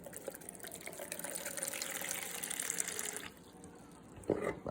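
Water streams steadily from a Berkey water filter spigot for about three seconds, a soft close pour that then stops, followed by a brief clink.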